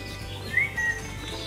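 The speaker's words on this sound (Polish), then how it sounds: "Przylatują kolejne gołębie." Racing pigeons arriving at a loft at the end of a marathon race, with a couple of brief faint chirps over quiet background hum.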